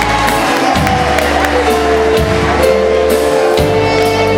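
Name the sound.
carnival audience applauding and cheering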